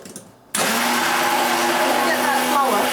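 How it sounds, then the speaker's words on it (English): A blender whirs on abruptly and runs at a steady loud whine while mixing pancake batter, with a voice faintly audible just before it starts. "so I'm just going to use a blender"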